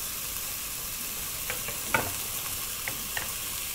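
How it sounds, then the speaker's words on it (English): Green banana pieces frying in a pan for a Kenyan matoke dish give a steady soft sizzle, with a few light scrapes and knocks of stirring scattered through it, no one speaking. "we're going to allow that to continue frying"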